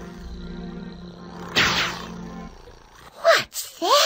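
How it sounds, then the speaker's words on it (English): A tiger roars once, a loud breathy roar that rises and then fades, followed by shorter growling snarls near the end, with no talking. "It's a tiger."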